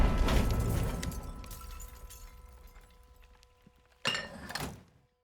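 An anti-tank gun knocking out a German Panzer in the Valor & Victory Kursk battle game, a loud crashing blast fading over a few seconds, then a second sharp metallic impact burst near the end.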